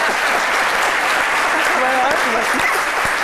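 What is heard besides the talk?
audience applause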